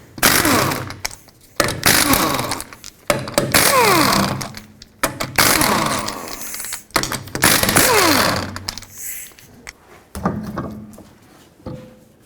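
A 19mm socket on an impact wrench spins lug nuts off the wheel of a 2005-2010 Pontiac G6, loud whirring bursts of a few seconds each repeated several times, with short pauses and clanks between them.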